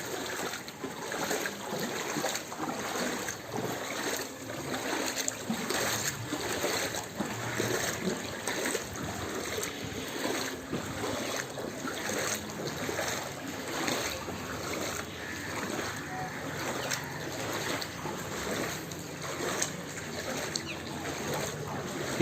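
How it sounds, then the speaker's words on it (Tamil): Heavy floodwater rushes through a street in the Dum Dum area of Kolkata after heavy rain, a continuous dense roar with splashing, steady and fairly loud throughout. "heavy water flow."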